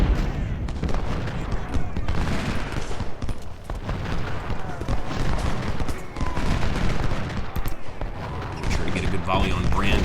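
Continuous volleys of musket and cannon fire from an American Civil War battle at Gaines Mill in Ultimate General: Civil War, loud dense crackling and booms layered over one another with no pause.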